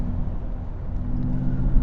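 A Mercedes-Benz EQS electric sedan accelerates with a steady low rumble of road and drivetrain noise, loud and continuous, heard from inside the cabin with no voices.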